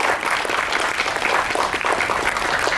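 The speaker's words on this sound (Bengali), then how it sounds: "জোরে হাততালি হয়ে যাক আমাদের সবার পক্ষ থেকে।" An audience at a felicitation event bursts into loud, sustained applause, dense steady clapping from many hands that lasts throughout without pause.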